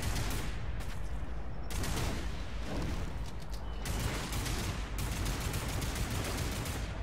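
Repeated booming cannon shots in the video game Lost Planet 3, with heavy low-end bursts and mechanical clatter, fired in an irregular sequence.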